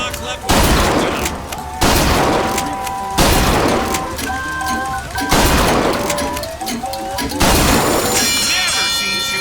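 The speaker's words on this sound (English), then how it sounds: "Never seen shooting like that." Gunfire at a carnival shooting gallery in BioShock Infinite: about five loud, close shots, each followed by shattering targets and ringing debris, repeating at a steady pace with a voice faintly underneath.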